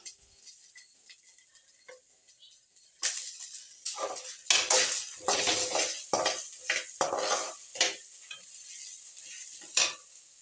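Sliced onion tipped into a pan of already-fried chili, urad dal and asafoetida, frying with loud bursts of sizzle and repeated scrapes and clinks of a spoon stirring against the pan; quiet at first, then busy and close.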